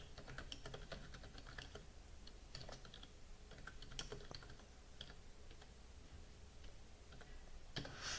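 Someone types on a computer keyboard, producing quick, irregular clicks and taps at close range over a faint background hiss, without any voices.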